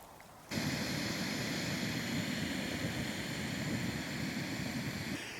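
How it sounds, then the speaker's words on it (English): A Jetboil camping stove burner ignites on a cold evening at a cliff-edge wild camp and settles into a steady, loud roaring hiss that continues close by without a break. "Let's get the trusty jet boil fired up."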